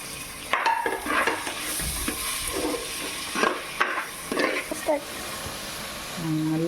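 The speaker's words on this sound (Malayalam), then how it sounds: "അതിൻ്റെ കൂടെ പച്ചമുളകും തക്കാളിയും വഴറ്റിയെടുക്കണം." Onions, green chilies and tomatoes sautéing in a pan for chicken curry, a steady moderate sizzle with occasional stirring scrapes, and a person talking over it.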